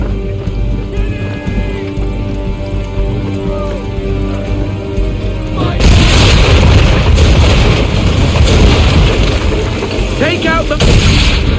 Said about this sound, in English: Now give the swivel guns a turn.